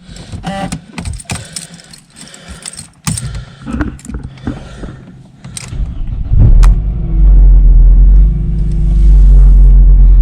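A Mercedes C180 Kompressor 1.8 W203 fitted with a new O2 sensor cranks and quickly catches after clicks and rattles, then settles into a loud, steady low engine rumble close by.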